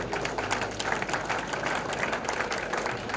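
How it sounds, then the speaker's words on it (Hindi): Audience at a prize distribution ceremony applauding, a steady patter of many hands clapping at moderate distance, fairly soft and continuous without pauses. "बहुत ज्यादा तालियां"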